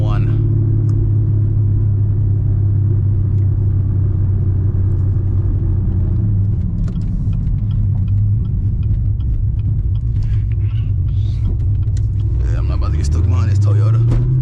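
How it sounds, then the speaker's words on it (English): A manual 900-horsepower Camaro ZL1 drives at sunset, its engine a loud continuous low rumble and drone inside the cabin, shifting pitch near the end as the car accelerates. "Sunset, POV drive, 900 horsepower ZL1."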